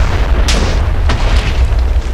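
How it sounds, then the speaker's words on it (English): A Minecraft explosion rumbles loud and close, a deep booming blast with sharp cracking bursts layered over a continuous low roar. "that was some explosion"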